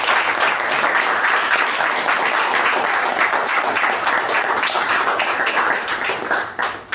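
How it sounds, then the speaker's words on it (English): Audience applause at a Toastmasters-style club meeting, steady dense clapping from a room full of people that holds loud and even for about six seconds before tapering off at the end. "let's have a huge round of applause"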